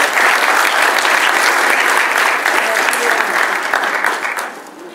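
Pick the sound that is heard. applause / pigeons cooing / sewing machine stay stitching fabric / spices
applause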